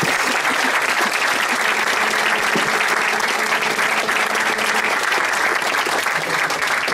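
Steady, loud applause from an audience at a science outreach event, many hands clapping continuously and evenly throughout, with a faint murmur of voices underneath.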